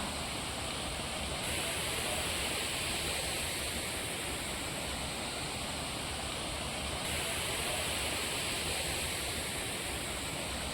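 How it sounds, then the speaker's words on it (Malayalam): Thripparappu waterfall on the Thamirabarani river roars as a steady, dense wash of falling water, loud and unbroken throughout with no voices over it. "ഈ പുറകിൽ കാണുന്നതാണ് തൃപ്പരപ്പ് വെള്ളച്ചാട്ടം"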